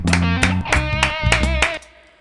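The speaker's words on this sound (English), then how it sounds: "the claps are clapping away on tempo 200" Rhythmic hand claps in an electronic music track at tempo 200, sharp evenly spaced hits over a sustained tonal bass, stopping abruptly near the end.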